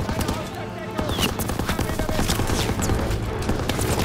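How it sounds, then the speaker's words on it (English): Machine gun fire in Call of Duty WWII, sustained rapid bursts mixed with distant explosions and battlefield noise, loud and continuous, with shouted voices over the top. "Covering fire on the MG! Suppress that MG!"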